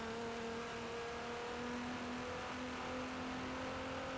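A drift car accelerating hard past 300, its engine a steady continuous drone with a rising whine held throughout, loud and close with broadband road and wind roar underneath.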